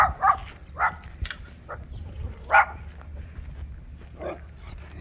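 Several neighborhood dogs bark in short, scattered bursts, some sharper and closer, others yippy and farther off, over a quiet outdoor background.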